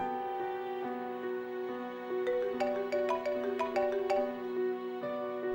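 A phone ringing with a melodic electronic ringtone, steady repeating tones that pick up into a brighter, faster chiming pattern partway through, clear and moderately loud with no talk.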